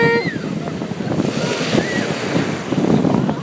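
Broadband wash of surf rolls in steadily at Santa Monica Pier beach, with wind rumbling across the microphone and brief bird-like chirps near the start.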